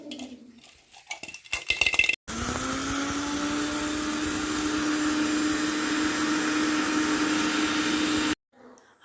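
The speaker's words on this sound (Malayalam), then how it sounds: "ഇനി ഇതൊന്ന് മിക്സിയിലിട്ടൊന്ന് പൊടിച്ചെടുക്കാം" An electric mixer grinder powders roasted fenugreek and mustard seeds for gooseberry pickle, a loud steady whining motor with rattling grains running about six seconds after brief clatter, then cutting off abruptly.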